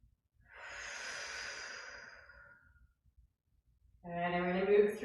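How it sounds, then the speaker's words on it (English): A deep breath during a yoga flow: a long, soft airy exhale through the nose or mouth, then a pause of near silence before a voice begins speaking calmly. "Let's find our breath."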